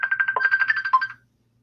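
A phone ringtone plays a quick, steady run of electronic beeping tones for just over a second, fairly close, then cuts to silence.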